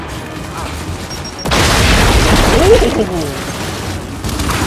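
Explosions in the Gears 5 video game, a sudden heavy boom that opens into a long roaring blast with rumbling debris, loud and close, and a player exclaims briefly over it.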